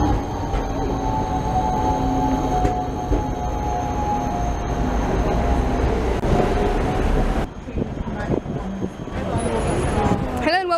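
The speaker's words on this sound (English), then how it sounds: "Tram!" A tram rumbles past close by on a city street in Prague or Budapest with a steady roar and metallic squeals, then the noise drops off abruptly; voices talk over it.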